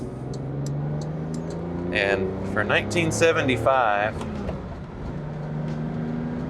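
A manual 1975 Mercedes 280SL R107 with a straight-six engine hums steadily from inside the car, a smooth, moderate drone that runs throughout while someone talks over its middle stretch.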